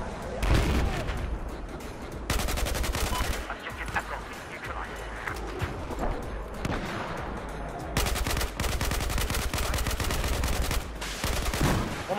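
Light machine gun fire in Battlefield 4, a CZ-805 loadout, with long rattling automatic bursts and scattered single shots amid battle noise, a voice talking underneath.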